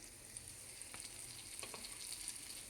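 An egg fries in hot oil in a deep pan for an egg uthapam, giving a soft, quiet sizzle with a few small pops and no voices.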